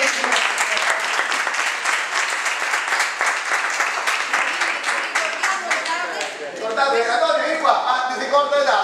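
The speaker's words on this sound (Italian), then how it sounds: "Lo facciamo un applauso alle nostre 5 vittime" An audience at a day-against-violence-toward-women event in Villa Crisafulli Ragno claps in a sustained round of applause that fades slightly near the end, where voices become audible.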